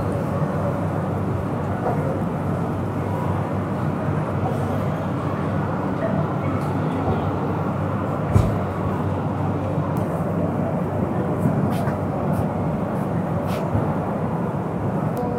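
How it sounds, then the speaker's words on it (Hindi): Express train pulling out of Shalimar station, heard from inside a 3rd AC economy coach: a loud, steady broadband rumble with a few faint knocks and creaks, no talk. "एकदम ऑन टाइम छोड़ी है हमारी ट्रेन।"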